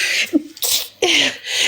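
Several short, sharp sneezes from pepper in quick succession, loud and close, with a brief vocal tone between bursts.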